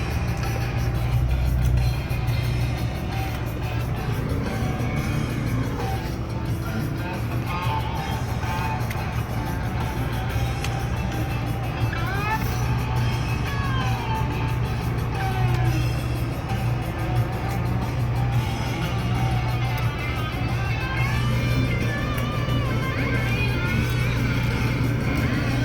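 Automatic car wash running around a car with people inside, a continuous low rumble of machinery, spraying water and brushes heard from within the vehicle, with occasional faint voices in the background.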